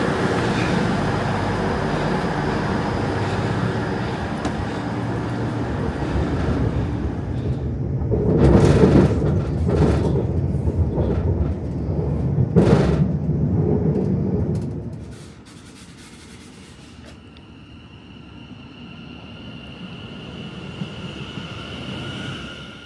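Interior of a passenger train travelling to Marston Green station in the West Midlands: steady rumbling rolling noise with a couple of louder clattering bursts, then quieter running as the train slows near the end.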